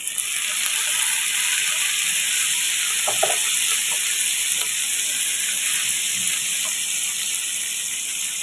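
Chicken sizzles on a hot iron dish over chopped onion for a restaurant-style Chinese chicken sizzler, giving a loud, constant hiss with a few faint clicks and no talking.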